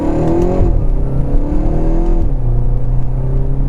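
2024 Volkswagen Golf GTI MK8 with its 2-liter turbocharged EA888 engine pulling hard in Sport mode, a steady loud drone whose pitch climbs, drops at a shift, then climbs again, heard from inside with no talking.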